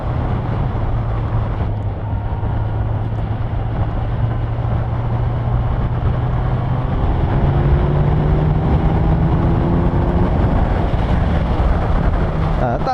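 A 2020 Kawasaki Z900 motorcycle pulls in 6th gear from low revs, its steady engine drone rising slowly in pitch under heavy wind rush across the whole stretch.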